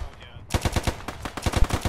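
Gunfire in a Stalingrad war game, a rapid automatic burst of close, loud shots in a steady rhythm after a brief quiet start.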